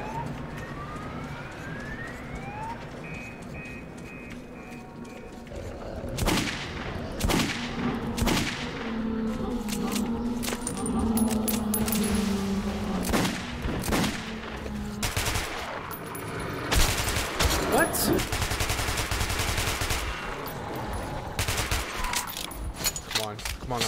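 Gunfire in the shooter game Metro 2033, loud bursts and sharp shots over a dense, noisy game soundscape that runs throughout, with blasts growing heavier and more frequent in the second half.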